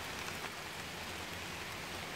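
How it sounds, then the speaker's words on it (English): Steady rain falls outdoors on a field pasture, a continuous soft even hiss with no voices, fairly faint. "I really hope this rain goes off soon so we can get into that pasture."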